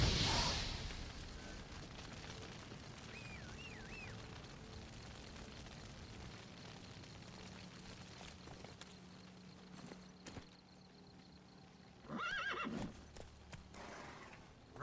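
A horse in the video game The Witcher 3 gallops and neighs, with a distant whinny early on and a louder, sharper neigh near the end over faint hoof clatter and game ambience.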